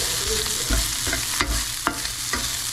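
Garlic, onion, tomato and chili sizzle loudly in a pan greased only with leftover oil from cooking talakitok fish, a steady frying hiss broken by several scraping stirs.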